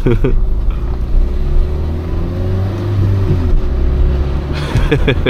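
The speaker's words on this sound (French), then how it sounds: "Ça fait vraiment bizarre de rouler sans porte." A car being driven with one door missing gives a steady engine drone under road and wind noise, with someone talking over it near the start and end.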